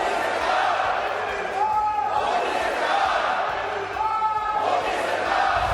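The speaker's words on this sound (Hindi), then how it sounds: "तालियों की गूंज के साथ संसद में वोट फॉर मोदी और तीसरी बार मोदी सरकार के नारे लगे" Members of parliament in the chamber applauding and chanting political slogans in unison, a loud, dense crowd roar with rising shouted chants over continuous clapping, sustained throughout.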